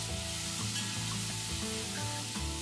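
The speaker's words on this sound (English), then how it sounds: "we're going to add 3 medium-sized onions which we have sliced, and we're going to saute these onions till they are nice," Sliced onions, three medium ones, sauté in hot oil for an egg malai kofta curry, giving a steady close sizzle with faint stirring clinks, no voices over it.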